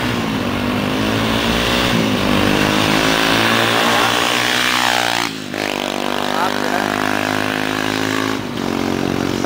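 Two motorcycles, a 1999 Honda Sahara and a CBR 450, both fitted with Roncar exhausts, idle and rev loudly up close with a sustained throaty drone, rising in pitch and then dropping back, with brief pauses between revs.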